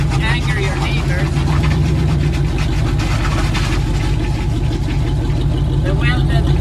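A turbocharged V8 car engine idles with a loud, steady low rumble close by, while someone talks over it throughout.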